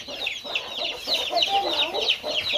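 Hens cluck steadily with a rural farmyard flock of birds, their busy overlapping calls filling the whole stretch at close range with no talk.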